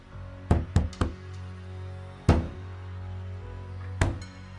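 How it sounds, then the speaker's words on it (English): Sharp knocks on a door: a quick cluster of three bangs, then a single loud knock, then another after a pause, over a low steady hum. "I heard the banging on my door."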